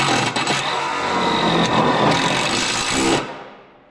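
A power driver runs self-drilling screws up into the body brace of a 1979–91 K5 Blazer or 1967–87 Chevy/GMC pickup, a close, continuous whir with a couple of pulses that stops abruptly near the end.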